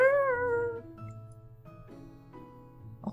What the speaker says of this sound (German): Nee, wie jault denn bitte eine Katze?